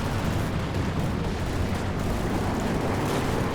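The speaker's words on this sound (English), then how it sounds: "Artillery is coming down, trying to blow up that building here." A Katyusha rocket artillery barrage in the Company of Heroes 2 wartime strategy game, a dense continuous roar of overlapping blasts and rumbling explosions, loud and unbroken, with no voices.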